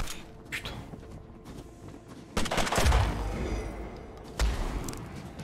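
A few heavy shots go off in the Mutant Year Zero: Road to Eden game, two louder blasts standing out over a low rumbling background.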